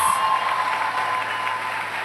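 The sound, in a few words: audience applauding graduates at commencement ceremony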